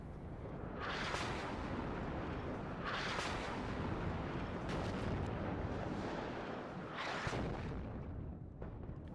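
Counter-battery artillery barrages in the strategy game WARNO rumble continuously, with several heavy, spread-out booming salvos standing out over a dense, roaring background of distant fire.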